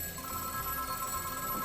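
An old telephone in a general store rings in a continuous bright electric trill that runs through the whole moment at moderate loudness, with no voices over it.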